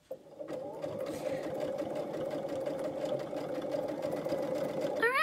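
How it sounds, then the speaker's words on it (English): A sewing machine darns over a fabric join, its needle running in a fast, steady mechanical whir after a brief start. The stitching sounds close and even and ends with a short change in pitch. "I'm just kind of darning over that join."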